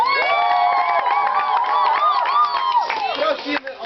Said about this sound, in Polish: Wielkie brawa hałas!